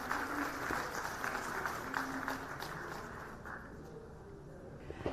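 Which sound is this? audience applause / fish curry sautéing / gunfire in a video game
audience applause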